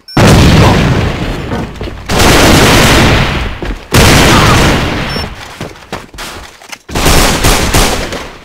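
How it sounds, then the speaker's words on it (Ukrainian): Loud bursts of explosions and gunfire from an enemy grenade in the online shooter AVA, several heavy booms with crackling tails separated by brief drops, close and dominant. "Граната противника!"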